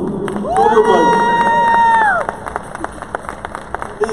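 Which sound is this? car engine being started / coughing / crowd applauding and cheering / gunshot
crowd applauding and cheering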